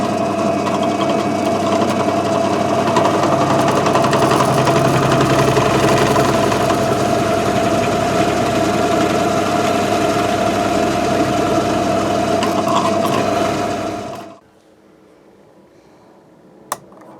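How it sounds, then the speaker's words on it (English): A power drill with a depth stop whirs steadily for about fourteen seconds drilling holes in a custom Telecaster guitar body, then stops abruptly, leaving near silence with one small click. "we'll just go ahead and drill them now"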